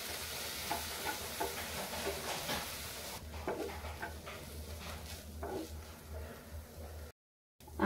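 Surmai fish mince being stirred in a pan with lemon juice and garam masala, a steady scraping and soft sizzle that continues throughout, fairly quiet, with a brief dropout near the end.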